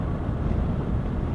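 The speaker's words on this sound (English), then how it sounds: "we are checking to see if the dead cat reduces wind noise" Steady, loud wind buffeting a Comica CVM-VM10II directional camera microphone fitted with a furry dead-cat windscreen, a continuous low rumble and roar with no speech.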